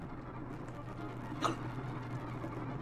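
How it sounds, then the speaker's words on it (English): One short hiccup, fairly faint, rises once from a quiet background with a low steady hum. No one speaks over it. "Do you have hiccups or the hiccup?"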